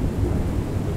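Dense rain roars in a scene from the game Pacify with a deep thunder rumble beneath, continuous and loud for a brief moment.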